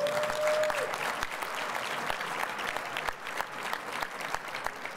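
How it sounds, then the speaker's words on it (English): A conference audience claps to vote for a Firebrand Artisan bread pitch at a Shark Tank-style pitch session, the 2019 ICIC National Conference. The crowd's clapping is steady and dense for the whole stretch, with a brief faint tone at the start. "please clap"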